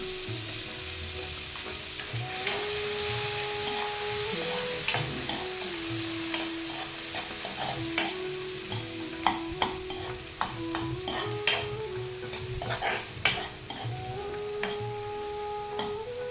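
Finely chopped onions frying for chana masala gravy, with a continuous close sizzle and frequent spoon scrapes and taps against the pan, with no talking.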